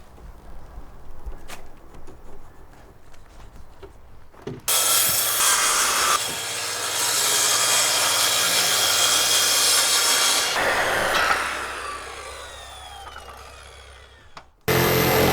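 A hand-held circular saw cuts wooden wall boards on a suspended treehouse, spinning up with a loud whine and biting through the wood for several seconds before winding down, then a short second burst.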